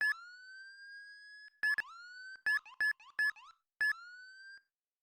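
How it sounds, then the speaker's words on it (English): Manual police siren in the Roblox-style game ER:LC, a clean electronic wail rising slowly from low to high, then cut into several short abrupt bursts with gaps, loud and isolated with no talk. "This is the manual siren."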